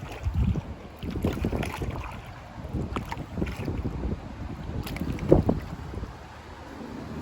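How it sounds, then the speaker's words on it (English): Gusty wind buffeting the microphone while paddling around a river bend, uneven rumbling bursts and low thuds rising and falling, no talking. "I think it's just wind."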